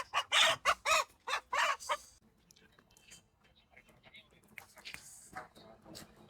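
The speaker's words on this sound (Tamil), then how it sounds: "நம்மளுக்கான கோழி அண்ணன் பிடிக்க போறாரு" Chickens being caught inside a cage on a country chicken farm, a burst of loud squawking and clucking followed by quieter scuffling and fowl noises while people talk nearby.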